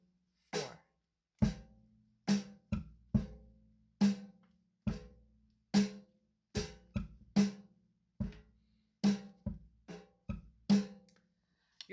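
Close, dry drum hits form a repeating 8-beat groove with sharp, evenly spaced strikes and extra bass drum accents between them, separated by clean silences.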